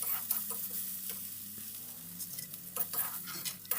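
Shrimp fry in a hot kadai, a steady sizzle with bursts of stirring and scraping, loud and close with no talk.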